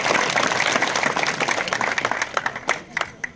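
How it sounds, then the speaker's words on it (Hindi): Loud, dense applause from an audience at the finals of a north Kashmir cricket premier league, honoring both teams, thinning into scattered individual claps toward the end. "सबको दोनों टीम्स के लिए जो है बड़े जोर से तालियां बजानी चाहिए।"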